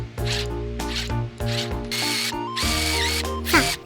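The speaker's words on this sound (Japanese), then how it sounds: "そのビスを隠すため 10mm のダボ穴を最初に開けておきます" A drill bores 10 mm dowel holes meant to hide screws, its motor whining in a steady pitched drone across several separate bursts with brief pauses, close by.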